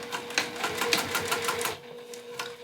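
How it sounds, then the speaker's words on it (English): A sewing machine runs close by in rapid rhythmic bursts, topstitching along the bottom edge of a zippered pouch through the exterior fabric, lining and zipper tape, then slows and quiets near the end. "I'm going to top stitch just along that bottom edge, going through the exterior and the lining and the zipper tape"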